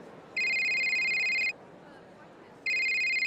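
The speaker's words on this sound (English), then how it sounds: "I'm getting ready backstage when my phone rings." Mobile phone ringing backstage before a show, two bursts of a steady electronic ring separated by a quiet gap, close and clear over low background noise.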